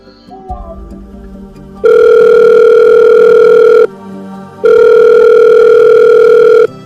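An unanswered phone call rings out as two loud, steady electronic ringback tones, each about two seconds long with a pause between, after a stretch of quiet room sound.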